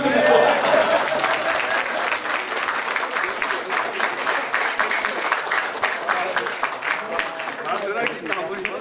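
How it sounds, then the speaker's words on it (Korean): Sustained applause from a large crowd at a high school alumni reunion, dense steady clapping filling the whole stretch without pause, welcoming a former teacher. "이영우 선생님 큰 그 박수로"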